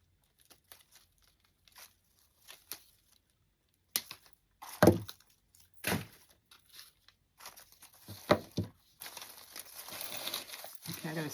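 Floral greenery stems snipped while arranging a bunny centerpiece: scattered crisp snips and crinkling rustles of foliage, a few sharper cracks, and a denser rustle toward the end, fairly close and quiet.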